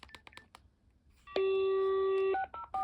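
A BT 6600 cordless phone sounds a quick run of short dialing tones, then a long steady tone and a few brief beeps, loud and close with no one talking.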